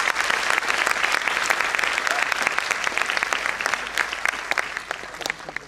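A louder round of applause from a ceremony audience for Dr. Deepa Malik, with dense, continuous clapping that stays strong and even from start to finish.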